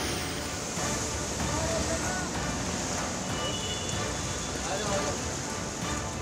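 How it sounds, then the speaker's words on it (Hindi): Steady, dense hiss of heavy monsoon rain pouring onto surfaces in Delhi, constant and enveloping, with faint voices underneath. "इतनी मूसलाधार बारिश हुई है कि ब्रिज के नीचे नदी बहने लगी।"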